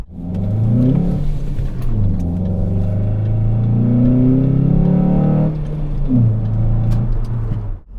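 A Ford Focus fitted with a K&N cold air intake revs repeatedly, its engine note sweeping up and down in loud, close pulls that sound deep and throaty, with no talking.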